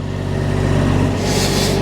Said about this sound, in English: you can hear the generator running in the background